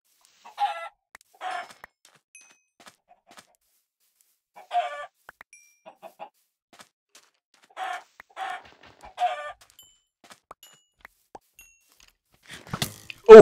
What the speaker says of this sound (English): So we got a few chickens over here.